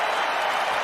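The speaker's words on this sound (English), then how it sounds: "Listen to the Penn State people erupt." Penn State wrestling fans roar in a sustained burst of cheering and applause at a college wrestling match, a dense, loud crowd wash with no clear pauses.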